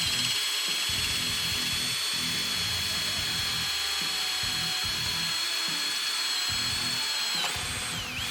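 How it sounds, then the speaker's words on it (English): A RIDGID Octane 18-volt half-inch hammer drill in mode 1 drives a Bosch spade bit through a treated 4x4. A high, steady motor whine sits over rhythmic low chugging bursts as the bit bites into the wood, close and loud throughout. "we're going to go mode 1 here, and we're going to go through a treated 4x4."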